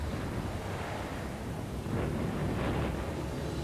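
A supernova explosion rendered as a sound effect for a space documentary: a continuous, dense roaring rumble that swells slightly partway through, with no voices.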